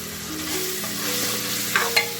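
Ginger and garlic sauté in hot oil for a tomato bath, a continuous close sizzle with a few sharp stirring clinks near the end and no voices.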